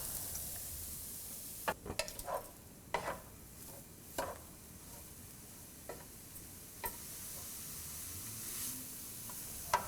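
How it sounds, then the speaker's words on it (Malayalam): Papaya thoran mix tossed in a skillet, giving a faint steady sizzle with scattered sharp scrapes and taps of stirring at irregular intervals. "ഇനി നമുക്ക് ഈ സെയിം സ്കില്ലറ്റിലോട്ട് നമ്മൾ മിക്സ് ചെയ്ത് വെച്ചിരിക്കുന്ന പപ്പായ മിക്സ് ആഡ് ചെയ്ത് ശരിക്കും ഇളക്കി കൊടുക്കുക."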